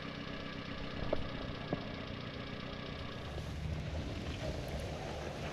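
A small vehicle's engine idles steadily at a campground in Arizona, a low continuous rumble with wind noise on the microphone and a couple of faint clicks.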